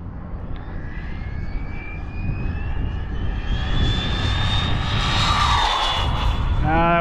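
An HPI Maverick RC car with a stock 2250kv brushless motor on a 6S ESC whines at quarter throttle, a rising high-pitched electric tone over rumbling wind noise that swells as it passes and fades.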